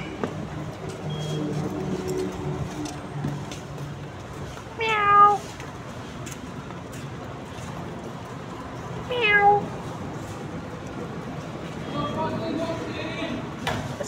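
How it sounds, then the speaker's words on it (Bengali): Kittens, a litter of three at play, give two clear high meows several seconds apart, with quieter mewing near the end over a steady background hum, and no talking. "বিড়ালের বাচ্চাগুলো দেখুন কত কিউট।"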